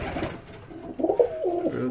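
Pigeons coo in a winter loft, producing soft, low, rolling coos close by, repeating in short bursts.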